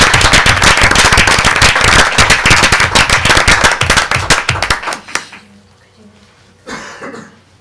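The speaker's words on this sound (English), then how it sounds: "If we could just give a round of applause to all of our students for achieving this." Audience applause for Westfield High School students at a board of education meeting: dense, loud clapping for about five seconds, then fading into near silence with a brief rustle near the end.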